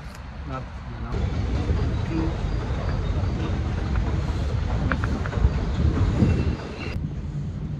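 A London Underground train rumbles and rattles along the rails, steady and loud from inside a carriage, with voices heard over the noise.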